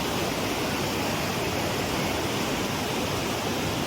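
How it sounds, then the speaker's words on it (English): Loud, steady rushing water roars without pause at the Rubicon power station, a dense broadband hiss like a nearby waterfall or torrent. "If you can hear me over the rushing water."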